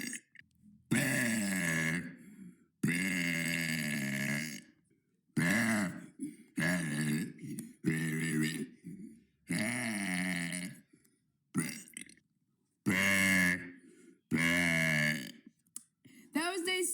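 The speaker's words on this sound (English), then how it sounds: "That was day 69 of burping for 100 days." A string of loud, drawn-out burps, about a dozen in all, each separated by short silences and varying in length and pitch, close to the microphone.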